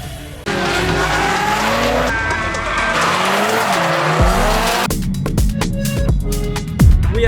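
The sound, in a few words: modified Honda cars drifting with tire squeal at circuit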